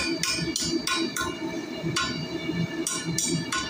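Light hammer taps straightening a small piece of copper on an anvil, bright metallic clinks in an uneven rhythm, close over a busy background hum.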